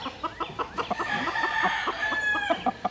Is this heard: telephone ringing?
no